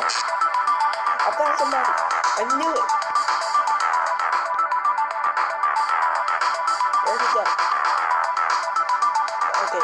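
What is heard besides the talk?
phone ringing in Roblox hide-as-objects game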